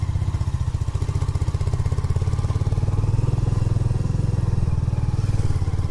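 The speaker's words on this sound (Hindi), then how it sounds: "लीजिए फिर से चल पड़ी है बुलेट भीम डूंगरी की चढ़ाई पर।" Royal Enfield Bullet motorcycle climbing the steep road up Bhim Dungri hill, its single-cylinder thump steady and loud, close up with a rapid even pulse and some rattling clatter.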